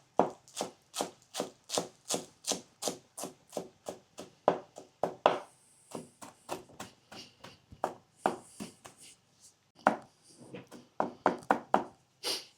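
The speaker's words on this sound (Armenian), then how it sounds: "Այդ ընթացքում մեզի անհրաժեշտ է կտրատենք կանաչիները։ Համեմ եւ սամիտ։" Fresh coriander and dill are finely chopped with a knife on a board, a steady run of crisp, close taps that briefly pause midway before resuming in a quicker burst.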